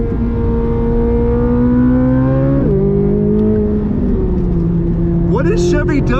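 Flat-plane V8 in a 2023 Chevrolet Corvette Z06 with the automatic transmission pulls hard, a loud, close engine drone whose pitch climbs and then drops sharply at each upshift, ending with a rising high-pitched rasp.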